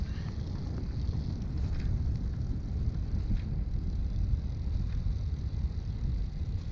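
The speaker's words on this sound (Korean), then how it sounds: "이게 바람이 엄청 많이 불어가지고 달리는데 조금 더 힘들었던 것 같아요" Strong wind buffets the microphone while a Brompton folding bike is ridden on a flat cycle path, a continuous low roar with no break and no voices.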